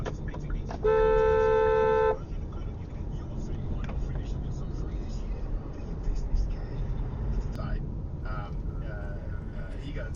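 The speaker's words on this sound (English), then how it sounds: "Now apparently I should not be using the horn here" A car horn sounds one sustained, loud honk of about a second on a UK road, standing out over steady traffic and engine rumble, after which road noise continues with brief quieter blips.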